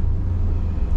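A 1966 Chevrolet C10 truck pulling away, its engine giving a steady low rumble that swells slightly at the end, with no talk.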